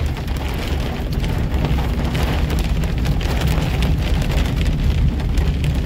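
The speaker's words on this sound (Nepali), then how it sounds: "अलिक बेसी रहेछ असिना भयो अब ल ल ल स्टार्ट भयो असिना" Hail falls during a sudden storm while driving, with a dense, continuous patter of hard pellets striking surfaces over a low rumbling roar and no talking.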